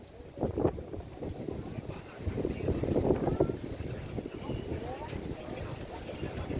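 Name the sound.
wind blowing at the seaside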